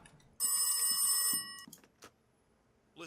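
An old telephone rings inside the horror game Rise of Insanity, a single loud metallic bell burst lasting about a second, then a few faint knocks and clicks.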